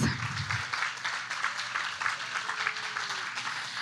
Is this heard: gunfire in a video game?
no